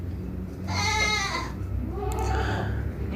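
Doro goats bleating, two drawn-out wavering calls in quick succession, close and fairly loud over steady background noise.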